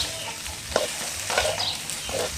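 Fried rice stir-fried in a pan sizzles quietly while a utensil makes a few short, scraping stirs against the metal.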